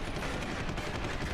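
Gunfire in the video game Deus Ex: Human Revolution, a dense burst of shots blending into a continuous loud crackling roar with no clear gaps, heard alone without talk.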